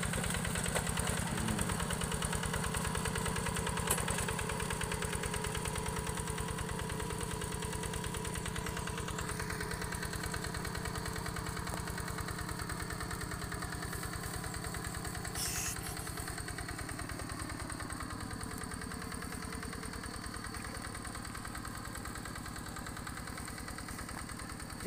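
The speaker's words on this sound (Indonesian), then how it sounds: "Traktor, guys." A tractor engine churns steadily while plowing a wet rice paddy, a continuous mid-pitched mechanical drone with constant vibration and no speech, holding fairly loud and even throughout.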